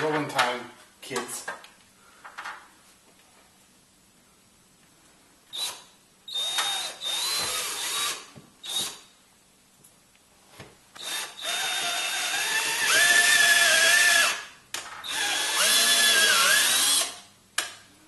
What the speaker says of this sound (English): it's drilling time